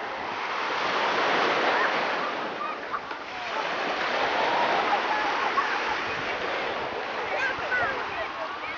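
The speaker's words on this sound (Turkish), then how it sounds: "Yağlı Çiftlik Halk Plajı'ndayız." Surf washes onto a public beach at Yalıçiftlik near Bodrum, a broad, steady hiss of breaking waves that swells and eases in gentle surges, close and fairly loud, with wind buffeting the microphone at times.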